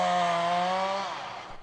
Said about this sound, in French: Dès que vous entendez un bûcheron, une tronçonneuse, il faut identifier à peu près déjà où elle est.